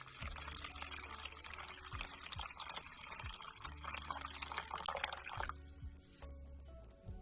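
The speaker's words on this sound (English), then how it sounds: "I'm just going to pour water in to about an inch up the tray" Water pours steadily into a seedling tray, a continuous close trickling and splashing over a low rumble with faint rhythmic thumps, tapering off near the end.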